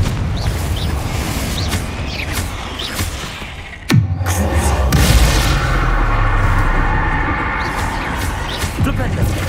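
Confringo fire-blasting spells exploding in Hogwarts Legacy: a sharp loud crack hits midway and gives way to a heavy rumbling boom, with rumbling game effects before and after.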